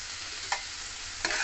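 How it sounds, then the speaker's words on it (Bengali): Tomato chutney cooks in a pan over a low flame, giving a soft, continuous sizzle with a couple of brief stirring scrapes, faint and close with no voices. "চাটনি পুরো লো ফ্লেমে আমি করছি"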